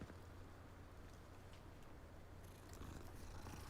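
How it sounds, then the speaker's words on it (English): A cat purring as it is petted inside the video game Hogwarts Legacy, a steady low rumbling purr that holds close and continuous through the whole stretch with no talking. "Oh, let's rub the cat."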